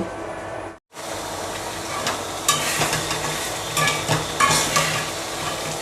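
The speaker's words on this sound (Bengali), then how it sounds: "ভালোভাবে শুটকি পেঁয়াজ রসুন একটু ভুনিয়ে নিব" Dried fish with onion and garlic frying in a pan, a steady close sizzle with occasional scrapes and stirring clatter after a brief silent gap at the start.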